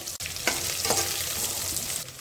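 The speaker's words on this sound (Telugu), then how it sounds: "ఇలా గోల్డెన్ కలర్ వేగాలండి పోపు." Steady loud sizzling of spices frying golden in hot oil, continuous and close, with a couple of soft clicks.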